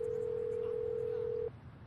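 A telephone dial tone holds one steady, unbroken pitch for about a second and a half, then cuts off abruptly, leaving quiet background murmur.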